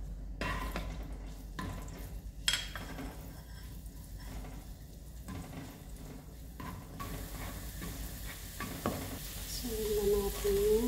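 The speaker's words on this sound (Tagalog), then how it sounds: "Magigisa na tayo. Lagyan na natin ng mantika. Olive oil. Ilagay na natin yung bawang." Garlic sautés in olive oil in a pan, a continuous close sizzle with occasional utensil taps and stirring scrapes throughout.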